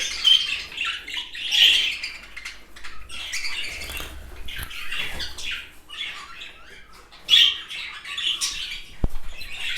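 Female birds fight and squawk in short, harsh bursts of raspy calls and scuffling, repeated irregularly at close range with brief quieter gaps.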